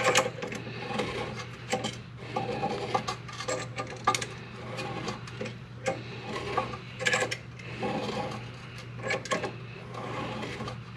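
Twist-type caliper tool pressing back a brake caliper piston on a 2003 Toyota Sequoia: close, irregular clicking and ratcheting metal clatter over a low steady hum, with scattered sharp taps throughout.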